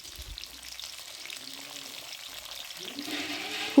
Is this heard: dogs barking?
no